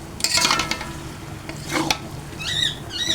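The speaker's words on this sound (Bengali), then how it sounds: "মাংসগুলো দিয়ে দিচ্ছি, ভালো করে মিক্স করে নিব।" Chicken pieces tossed and mixed in a hot pan of biryani masala, bursts of sizzling and scraping from the spatula with brief metallic clinks, close up with no talking.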